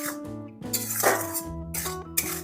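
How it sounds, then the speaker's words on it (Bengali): Ground spices being stirred and fried in oil in a pan for a no-onion, no-garlic okra dish, heard as scattered metallic clinks of a spoon against the pan under steady background music. "এবার ভালোভাবে সব মশলাগুলো কষিয়ে নেব।"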